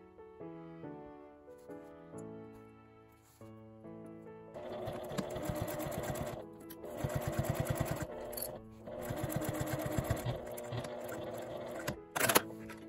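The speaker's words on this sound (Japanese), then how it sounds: "この布端を縫います。" A sewing machine stitches along the fabric edge of an L-zip wallet in quiet, rhythmic bursts of rapid needle chatter, starting and stopping several times, with a sharp click near the end.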